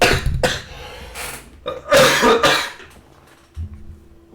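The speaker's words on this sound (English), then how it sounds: "I'm really sorry for the cough." A person coughs repeatedly in loud, ragged bursts with a throat-clearing sound, close to the microphone, during a stream of the game Hell Let Loose.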